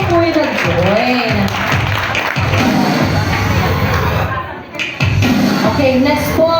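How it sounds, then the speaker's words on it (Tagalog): A gathered audience applauds and cheers for a couple who joined an event, loud crowd noise sustained throughout with voices mixed in and a brief dip before the clapping resumes. "Palakpakan nyo naman po yung nag-join."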